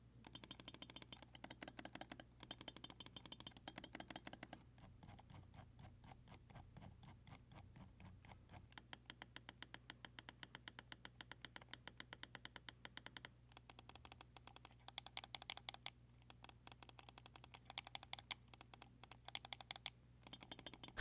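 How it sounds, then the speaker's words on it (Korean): Rapid clicks from a Ramzu Inca computer mouse with Omron optical switches, dull crisp taps in fast runs and bursts, recorded close and alone with brief pauses between sequences. "클릭 소리를 들어보면"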